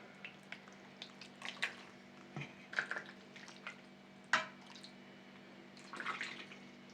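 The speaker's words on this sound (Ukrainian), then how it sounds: "Один вже перець готовий, залитий заливкою. Тепер інший заливаю." Liquid filling is poured over rice-stuffed peppers in a pot, giving soft, close trickles, drips and small splashes over a steady low hum, with a few louder wet bursts and no talking.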